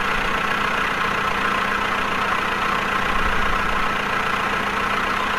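Tractor engine idling steadily in Woodcutter Simulator 2013, a continuous low rumble with no talk over it.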